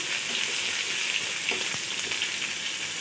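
Steady crackling sizzle of fennel seeds, cinnamon and ginger-garlic paste frying in hot oil, close and continuous, with a few faint stirring knocks and no voices.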